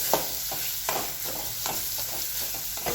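Ground garlic, green chili and peanuts sautéing in hot oil on a low gas flame: a steady close sizzle broken by rhythmic spatula scrapes and stirring strokes every half second or so, with no talking.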